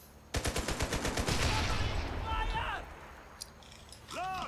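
MG34 machine gun firing in a World War II video game: a rapid rhythmic burst of loud shots, then scattered further gunfire and a distant blast, with a commentator talking over the action.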